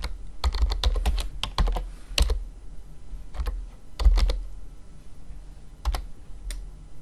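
Steady typing on a computer keyboard while entering text into an Excel cell for a VBA macro, with quick irregular clicks in bursts and a few louder keystrokes, close up and with no voices.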